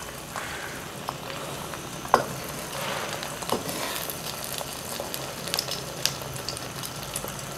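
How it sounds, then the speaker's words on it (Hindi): Eggs fry in a pan over a full flame for chicken fried rice, giving a steady, close sizzle with occasional sharp crackles and light clinks, and no voices. "सबसे पहले अंडे को फ्राई करना है, क्योंकि अंडे को फ्राई करके हमने इसको निकाल लेना है।"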